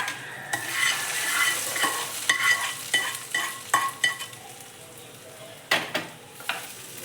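A spoon scrapes and stirs seasoning into gojju avalakki, flattened rice, in a pan, giving irregular close clinks and scrapes over a soft steady hiss, with no talking.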